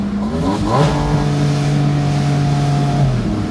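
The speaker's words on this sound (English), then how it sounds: "go to 5th gear, Here's 5th. and then just drop 3 gears in a second" A 2025 Porsche Spyder RS engine with a PDK gearbox roars loudly and close, its pitch jumping up in a quick rev blip as it drops several gears, then holding a steady, strong drone.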